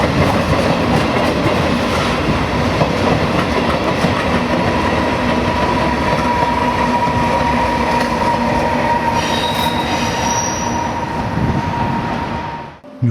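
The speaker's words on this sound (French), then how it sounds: "Nous prenons le temps d'observer les circulations ferroviaires dans cette gare terminus." Trains roll through Milan's terminus station, a loud, steady rumble of wheels and clattering rail joints with a sustained squealing tone, running alone for over ten seconds before fading.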